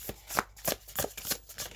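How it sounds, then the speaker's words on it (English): A deck of tarot cards, The Wild Unknown Tarot, is shuffled close up in quick riffling bursts, several rapid flutters of card edges one after another. "Don't worry about how much it's shuffled."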